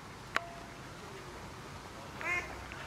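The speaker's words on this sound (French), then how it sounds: "Les canards." A single faint duck quack sounds from a distance against quiet outdoor background, preceded by a brief click.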